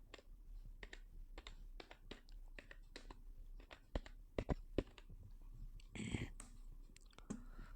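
Typing on a computer keyboard while entering code for an HTML tutorial: steady runs of close, crisp key clicks with short pauses, a few louder strokes, and a brief rustling burst near the end.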